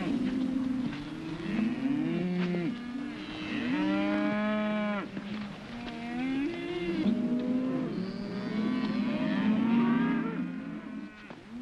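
Cows moo repeatedly, several long, loud lowing calls overlapping one another, close by and continuous throughout.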